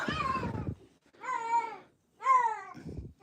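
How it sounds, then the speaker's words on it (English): A Siamese cat meowing at home, three loud, drawn-out yowling meows close by, separated by short pauses. "So they say Siamese cats are noisy,"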